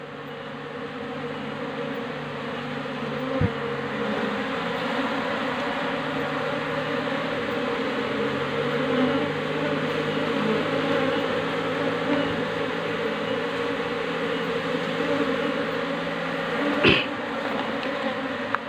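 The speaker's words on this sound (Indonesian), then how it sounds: "di sini juga ada lebah drone-nya ini atau lebah jantan" A honeybee colony with drone bees hums in a dense, steady buzz that continues throughout, with a few soft knocks and clicks close by.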